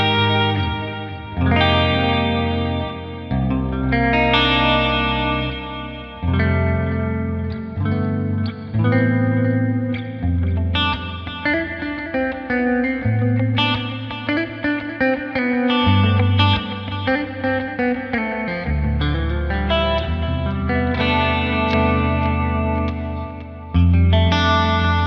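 Electric guitar run through a Neural DSP Archetype Petrucci amp simulator with chorus, mono delay and a less washy reverb, playing a continuous sustained chordal and melodic passage, loud and steady throughout with shimmering modulated echoes and no talking.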